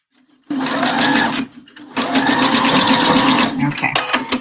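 A sewing machine stitches across the top of a homemade bra, running loud and close in two steady bursts separated by a short pause, with a voice speaking over the motor.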